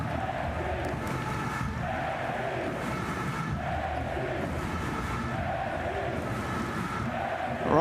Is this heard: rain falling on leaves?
no